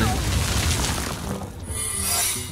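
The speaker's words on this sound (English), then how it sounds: "Okay, so it's an explosive trap." An explosive trap secret going off in the Hearthstone card game, a short booming shatter blast that rings out over a dense background with a brief dip, fairly loud.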